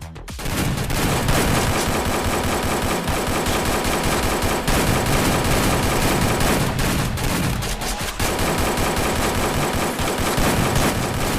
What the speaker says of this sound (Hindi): चलो शुरू करो फायरिंग